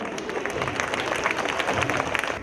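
Warm applause from a school audience welcoming an English drama for a Women's Day event, a steady wash of many hands clapping with a little crowd murmur beneath.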